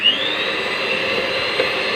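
An electric mixer beats butter for a homemade red velvet cake, a steady high-pitched motor whine running unbroken and close up, with no talking.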